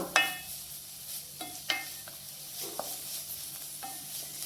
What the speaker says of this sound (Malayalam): ഇഞ്ചിയൊക്കെ ഇങ്ങനെ പൊട്ടണ സൗണ്ട് കേൾക്കും കടകട കടകടാന്നൊരു സൗണ്ട് കേൾക്കും